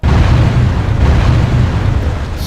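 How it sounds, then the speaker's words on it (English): Dense, continuous rumbling explosions from a medieval knight combat video game, a loud sustained low roar of blasts with no clear gaps, heard alone without talk. "Just explosions, oh jeez."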